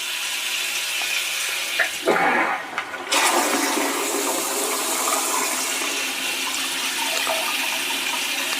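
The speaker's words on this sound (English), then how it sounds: "and that's the flush." A Casta Diva CD-U010Max smart toilet flushes with a loud, close, continuous rush of water. There is a brief dip and gurgle early on, and then a steady swirling flow runs for several seconds.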